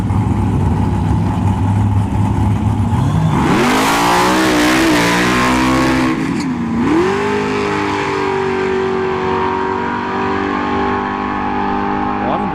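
Drag race launch at a dragstrip between a Ford Pinto and a 1970s Mustang, loud engines revving hard then screaming up through the gears with tires spinning, close and dominant, followed by a lingering engine drone.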